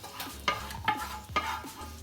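Garlic fries in a pan for a Filipino pork silog dish, with a steady sizzle broken by three or four regular scraping stirs, close and moderately loud, with no talking.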